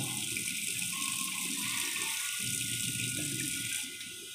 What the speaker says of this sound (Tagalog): Tapos, lalagyan natin siya ng sabaw.